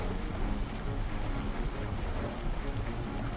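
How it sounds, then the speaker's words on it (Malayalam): A boat sails across open water in the Blox Fruits video game toward the pirate village, with a dense, steady rush of waves and wind and no talk over it. "ഈ ബോട്ട് പോണ അങ്ങോട്ടാണല്ലേ."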